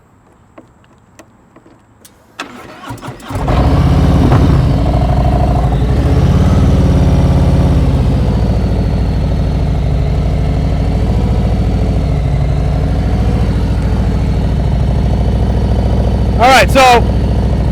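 A motorcycle engine holds a steady low throttle through slow-speed practice riding in a lot in Maryland, starting after a brief quiet lead-in and droning evenly throughout, with someone talking over it.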